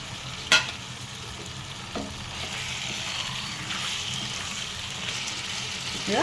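Prawns frying in hot oil in a pan with turmeric, a continuous soft sizzle with a few scraping stirs of a spoon, heard up close with no talking.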